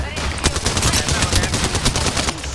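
Rapid automatic gunfire in the shooter game Apex Legends, a dense, loud burst of shots close up, with a few separate cracks mixed in.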